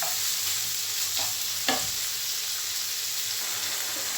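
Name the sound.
chicken stir-frying in spice masala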